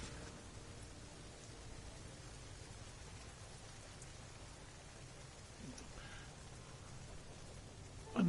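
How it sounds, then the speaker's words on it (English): Drizzling rain falls in the No Man's Sky video game, a faint, steady hiss that continues throughout with a slight swell near the end. "Enough drizzle, let's have another storm."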